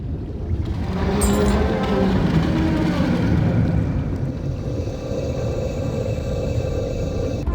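A great beast rising in the game Wizard101, heard as a loud, continuous deep rumble with a roaring edge that holds steady for several seconds, with no talking.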